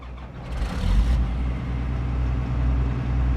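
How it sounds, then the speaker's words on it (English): An old vehicle in Farming Simulator 22 cranks and starts. A brief starter whine gives way to a deep, loud idling rumble that settles into a steady low throb. "Right, engine on."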